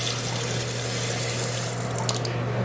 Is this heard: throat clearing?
no